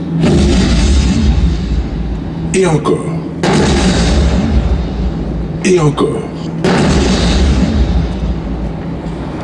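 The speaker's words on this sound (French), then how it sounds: "le premier pétard vient d'être inventé" Loud, repeated firecracker blasts in sharp bursts at the Grand Feu de Saint-Cloud fireworks show, with a voice speaking briefly between the bangs.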